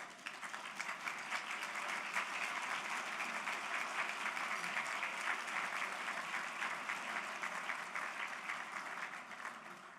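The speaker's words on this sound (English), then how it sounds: "please stand and let's give them a round of applause." Sustained applause from a banquet audience at the NDSU Harvest Bowl 2022 honoring event sponsors, a dense steady wash of many hands clapping at moderate distance, with no talking.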